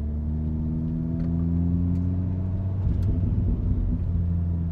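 A 2018 VW Golf R MK7.5 with a Stage 1 ECU tune, in sport mode and second gear below 3,000 RPM, produces a steady low exhaust drone and rumble that holds throughout, heard from inside the car.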